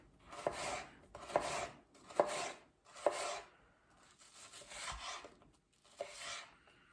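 Knife dicing an onion on a chopping board: six or seven separate bursts of rhythmic slicing, each ending in a light tap on the board, close and quiet with short pauses between them.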